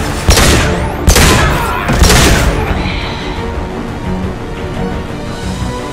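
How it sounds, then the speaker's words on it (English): Rifle fire in Mass Effect 2: three loud, booming shots about a second apart, each with a long rumbling tail, followed by fading reverberant battle noise. "I love this rifle."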